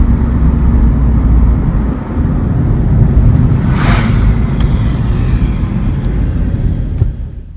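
A 2004 Honda Civic EX coupe with a Magnaflow catback exhaust, cold air intake, headers and test pipe, giving off a loud, steady low exhaust drone and rumble throughout, with a brief higher whoosh in the middle.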